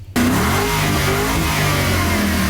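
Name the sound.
car engine revving during Great Lakes charity rally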